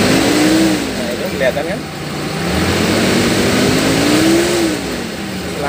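A Suzuki Espass engine with an aging lower radiator hose is revved close by, its pitch climbing and falling in two smooth surges while someone talks over it.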